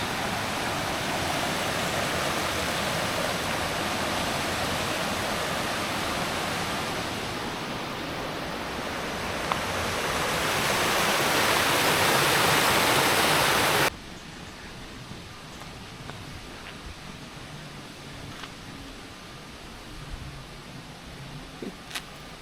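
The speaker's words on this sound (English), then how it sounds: "You might see over there, there's a water wheel." Rushing water from the wheel race at Eskdale Mill pours in a loud, steady roar that swells near the middle, then cuts abruptly to a much quieter ambient background with faint small noises.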